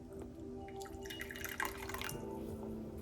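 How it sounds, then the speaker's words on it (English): Goji berry tea poured into a cup, a soft, close trickle and drip of liquid that runs for a few seconds over a faint background hum. "now we are going to pour our Goji Berry Tea into our cup"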